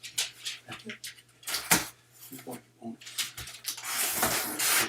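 A curious dog moves about nearby as people talk, with short snuffling bursts and clatter mixed with the voices, mostly under the talk.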